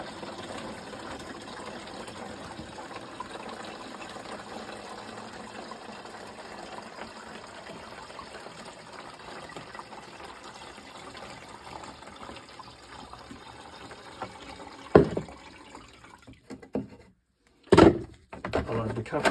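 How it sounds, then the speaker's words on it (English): Two liters of water pour steadily into a container with a continuous gurgling rush, followed by a few thunks and clatters near the end. "Another 2 liters of water."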